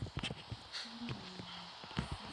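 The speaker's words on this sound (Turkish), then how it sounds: "Evimde iskelet at var" Skeleton horse in the Minecraft video game, a few short hoof-like clip-clop steps and faint game noises in a quiet room, with no talking.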